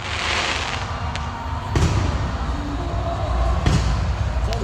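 Deep booms of fireworks thump at intervals over a continuous rumbling crowd-like background, a couple of sharp bursts standing out.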